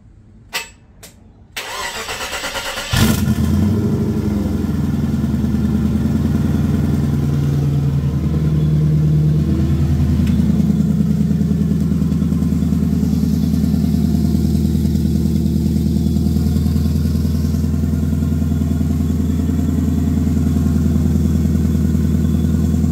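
A turbocharged car engine cranks briefly after a few faint clicks, then fires and settles into a loud, steady idle with a constant low rumble and a faint high whine, close up and uninterrupted.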